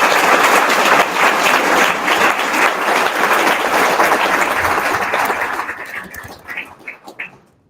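A conference audience applauds Utah Governor Cox at a state and national service symposium, a loud, dense burst of clapping that holds for several seconds and then tapers off into scattered claps.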